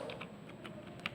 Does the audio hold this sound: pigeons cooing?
no